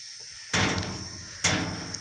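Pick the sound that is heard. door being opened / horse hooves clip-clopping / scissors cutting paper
door being opened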